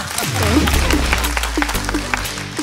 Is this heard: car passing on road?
no